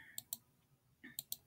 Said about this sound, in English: I think I'm just clicking on different tabs.